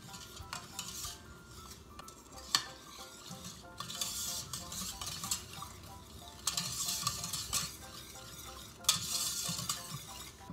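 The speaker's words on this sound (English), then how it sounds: "Give that a whisk." Helbeh dessert mixture being whisked in a bowl with lemon juice, giving a steady run of quick scraping and stirring strokes with light clinks against the bowl, close and moderately loud, with no talking.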